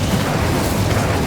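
A dense, continuous burst of magical blast and fire noise from Confringo and Incendio spells in the Hogwarts Legacy video game, loud and rumbling with no gaps.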